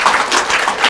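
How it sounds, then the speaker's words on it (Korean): Church congregation at a conservative Christian federation launch event claps in a dense, loud burst of applause that cuts off abruptly after about a second. "박수 한번 주세요"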